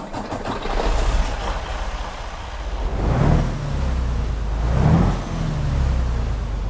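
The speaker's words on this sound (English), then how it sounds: "let's get our brilliant orange Freightliner Cascadia 5th Gen started up and get on the road" A Freightliner Cascadia 5th Gen truck engine in American Truck Simulator cranks and starts, then settles into a deep, loud idle with two rising revs, close and continuous with no talking.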